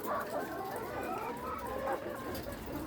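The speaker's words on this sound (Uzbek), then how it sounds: "Ushbu tovuqlarimiz sotiladi. Tovuqlar sog'lom." Healthy laying hens at a farm in Sirdaryo region, Uzbekistan, cluck and murmur in a steady overlapping chorus, close and moderately loud, with no talking.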